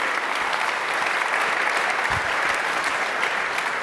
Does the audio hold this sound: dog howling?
no